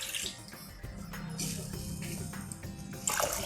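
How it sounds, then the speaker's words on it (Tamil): Water poured into a pot of dissolved, strained jaggery, a steady close splashing pour with no speech over it. "ஒரு அரை டம்ளர் தண்ணி விட்டு"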